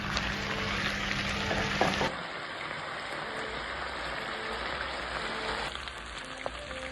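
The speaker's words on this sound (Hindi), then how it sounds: "गोश्त हमारा अच्छे से भुन गया है और गोल्डन भी हो गया है" Mutton pieces frying in a pan until golden brown give a steady, close sizzle with occasional stirring scrapes. The sound runs loud for the first two seconds, then settles to a softer continuous hiss, with no talking.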